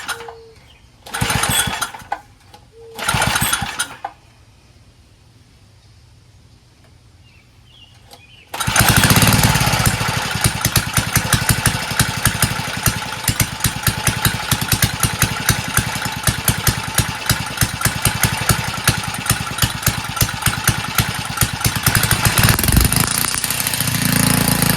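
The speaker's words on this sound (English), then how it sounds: "Okay, runs on choke, carburetor's dirty" A Toro Recycler Personal Pace lawn mower, its carburetor dirty, starts and runs on choke: a couple of short bursts first, then a steady, loud, close engine drone with a rough, uneven pulse.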